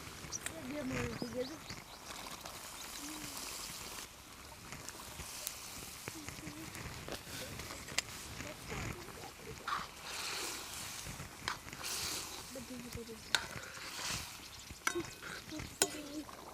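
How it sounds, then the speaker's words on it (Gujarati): Rajma kidney beans tipped into cooked masala and stirred, a steady frying sizzle with scraping and stirring clatter, fairly close, under a person talking throughout. "મસાલો પાકી ગયો છે ને હવે આપણે નાખી રાજમા"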